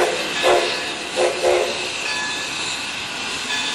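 A circus train rumbles past with a steady broad roar, a few brief louder swells rising over the continuous rolling noise.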